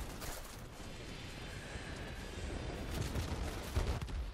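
Anti-aircraft fire in World of Warplanes, a steady distant rumble of flak bursts and cannon fire around an F-84B Thunderjet, with the engine drone underneath and no talking.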